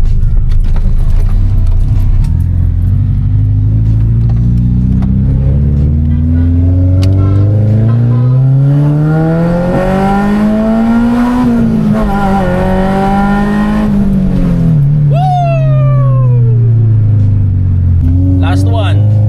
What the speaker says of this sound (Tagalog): try natin pakinggan ang VTEC.